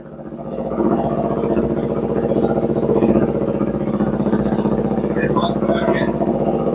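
A KTM RC 125 motorcycle engine idles steadily and loudly after starting up, with a constant low rumble; people talk briefly over it.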